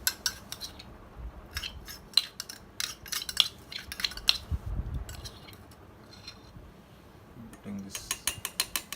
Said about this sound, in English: I'm mixing this elachi and lemon together.